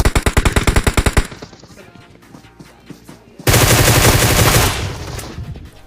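Groza assault rifle firing in a mobile battle royale shooter: a rapid burst of about a dozen loud automatic shots, a quieter stretch of distant crackling fire, then a dense sustained volley of gunfire that trails off.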